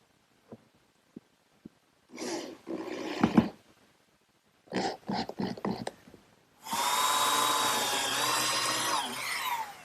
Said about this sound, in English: they just get put on with some glue and screws